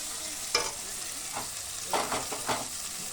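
Onions fry in a pan with a steady soft sizzle, broken by a few brief scraping swishes of stirring, with no talking.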